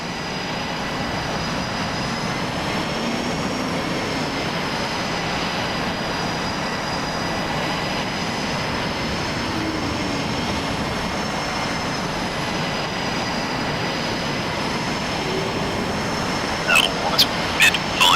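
Jet aircraft taking off in the DCS flight simulator, a steady broadband engine roar with a high whine held throughout, joined by a few brief clicks near the end.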